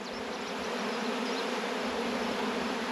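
A swarm of honeybees hums on the ground beside a hive, a steady, close, continuous buzz that holds level from start to end, with no voices.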